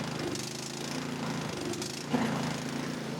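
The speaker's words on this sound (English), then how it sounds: "now you can start to hear it start to surge a little bit" A small gasoline snowblower engine needing maintenance runs up close with a loud, rough, continuous chugging drone that wavers slightly in pitch as it begins to surge, with no voices over it.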